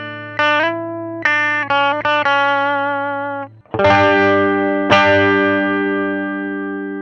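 Electric guitar played through the three-knob amp simulation of an Ampero One (volume, tone and output) with distortion. Several sharp picked notes ring out, then fuller chords sustain and slowly fade, loud and alone.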